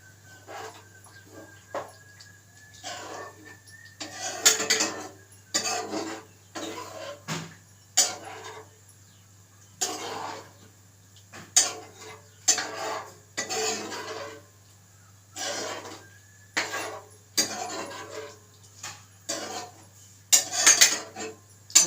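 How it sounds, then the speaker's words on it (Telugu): A spoon stirring mushroom curry in a metal pan after water has been added, giving a steady run of close clinks and scrapes in an irregular rhythm that continues throughout, with no talking. "వాటర్ వేసినాక ఇలా కలిపేసుకోవాలి."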